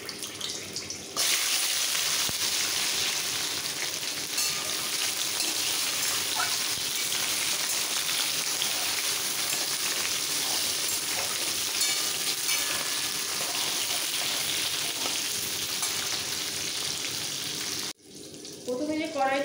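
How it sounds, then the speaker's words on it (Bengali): Washed jujube berries drop into hot tempered oil in a pan for a sweet-sour pickle, setting off a loud, continuous sizzle and spatter that runs almost unbroken before abruptly cutting out near the end. "এবার এই ফোড়নের তেলে ধোয়া ফুলগুলো দিয়ে দেবো"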